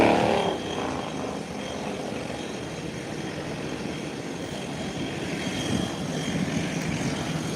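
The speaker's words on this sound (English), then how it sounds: "Whilst the American airline that just landed from Charlotte is now taxiing, heading towards the parking ramp." An American Airlines airliner, just landed from Charlotte, taxis toward the parking ramp, its engines giving a steady, unbroken roar-hum at moderate distance throughout.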